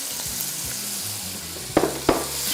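Chopped onion frying in a pan, a close continuous sizzle with two sharp stirring scrapes near the end.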